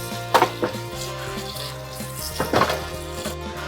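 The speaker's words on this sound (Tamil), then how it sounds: "கறி வாஷ் பண்ணியாச்சு" Mutton pieces are rinsed under a running tap in a kitchen sink, a steady water stream with a few louder splashing bursts as the meat is handled, close and alone with no talk.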